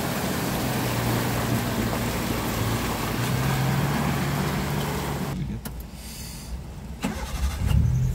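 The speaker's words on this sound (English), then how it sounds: "now we're driving through getting out of this quarry" A Gypsy off-road vehicle drives out of a quarry, its engine a steady loud rumble close by that drops off near the end, followed by a few knocks and a brief renewed surge.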